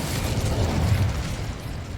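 An Incendio fire spell cast in Hogwarts Legacy bursts out as a short, loud whooshing blast of flame with a rumbling low end, lasting about two seconds.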